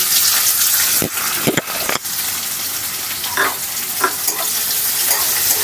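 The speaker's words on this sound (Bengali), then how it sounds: "পেঁয়াজটাকে আমার ভেজে নিতে হবে।" A large chopped onion fries in a pan, a steady loud sizzle with a few sharp clacks and scrapes as it is stirred, close by.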